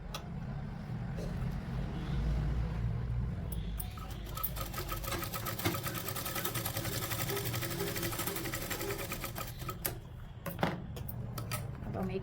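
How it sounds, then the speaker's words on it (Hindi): A sewing machine stitches the neck strip of a blouse, its needle chattering in a steady rapid run for most of the stretch, pausing briefly near the end before starting again. "उसके बाद हम हमारा जो यहाँ गला पट्टी है उसको हम इस तरीके से सिलाई लगा देंगे।"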